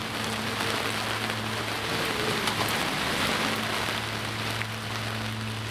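Steady, dense rain with hail pattering continuously for a film's rain sequence, an even wash of sound with no talk.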